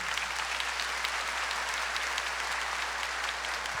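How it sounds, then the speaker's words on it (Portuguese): Church congregation clapping during a Mass, a steady, even patter of many hands held at a moderate level throughout, with no voices on top. "Podem bater palmas, sim."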